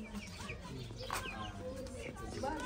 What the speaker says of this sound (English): These are the chickens, baby chickens.